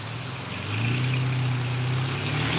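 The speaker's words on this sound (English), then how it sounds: "Car's about to drive by." A car passes on a wet road during a thunderstorm in Pittsburg, Kansas. Its engine hum swells in partway through and holds steady and fairly loud over a constant hiss of rain.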